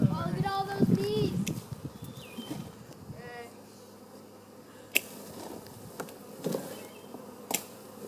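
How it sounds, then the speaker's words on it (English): A swarm of honey bees being caught in Unionville, Iowa hums and buzzes continuously in the background while people talk over it, with scattered close bees whizzing past and a few sharp clicks and bumps. "Oh, look at all those bees."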